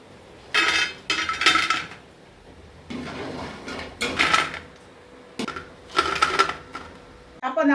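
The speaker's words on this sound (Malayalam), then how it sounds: "ഇനി നമുക്കിത് കോരിയെടുക്കാം." Fried elephant yam pieces are scooped out of a pan for an Onam feast, sharp metallic scraping and clinking of a ladle in four or five bursts separated by quieter gaps, with a voice speaking between them.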